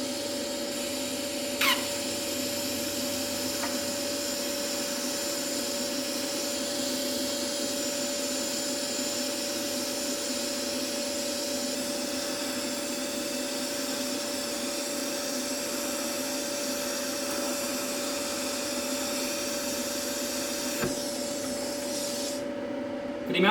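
A YesWelder MP200 multi-process welder running a MIG weld with gas on gives a steady, loud hiss and crackle with a constant hum, holding for about twenty seconds without a break.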